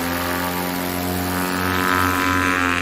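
A STOL aircraft on its takeoff run at a swamp short-takeoff-and-landing competition in Jennings, Louisiana, its propeller engine giving a loud, steady, close droning roar that builds slightly as it climbs away.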